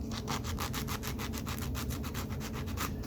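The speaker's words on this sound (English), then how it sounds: "I've got 100 grit sandpaper. We're going to work down some of these edges." Sandpaper of 100 grit scrubs the edges of a piece of pine in quick, regular back-and-forth strokes. The rasping is close, steady and rhythmic, with no voices.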